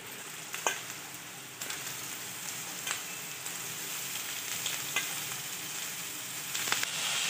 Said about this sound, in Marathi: हिरवी मिरची आणि लसूण कुटलेला, तर ही मस्त फ्राय करून घेऊ आपण